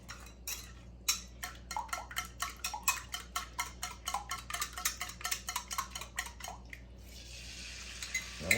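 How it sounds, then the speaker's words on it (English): Eggs beaten in a bowl with a fork or whisk for an omelet, making a quick, rhythmic run of light clinks and wet taps that stops near the end, close and alone. "Beat up our eggs again"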